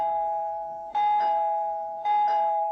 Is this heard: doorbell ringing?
yes